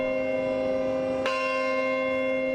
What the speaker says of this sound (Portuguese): Numa capela em frente ao antigo World Trade Center, o sino da esperança, doado pela cidade de Londres,